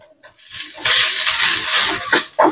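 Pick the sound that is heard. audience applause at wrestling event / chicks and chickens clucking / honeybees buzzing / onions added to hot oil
onions added to hot oil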